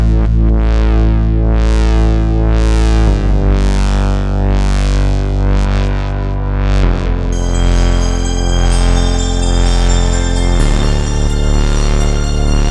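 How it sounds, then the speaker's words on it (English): A Moog synthesizer part in a trance track plays loud, bright, sweeping tones that rise and fall repeatedly over a sustained bass. Midway the chords change and a high shimmering layer comes in. No one speaks. "that's the Moog"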